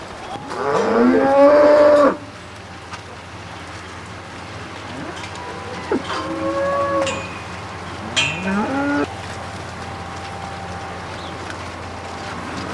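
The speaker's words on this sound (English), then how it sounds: "We milk our 250 cows in this sophisticated, semi-automatic, computerized milking parlor." Dairy cows on a kibbutz farm moo several times, one long loud bellow up close followed by two or three shorter, quieter calls, with steady light patter like rain in the background.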